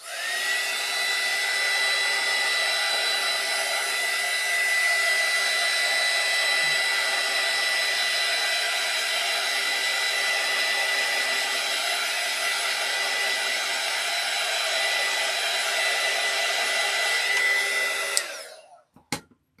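A hair dryer blows steadily on alcohol inks laid over a ceramic tile, a loud, even whir that runs unbroken for about eighteen seconds, then cuts off abruptly with a couple of small clicks.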